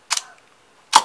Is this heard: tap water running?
no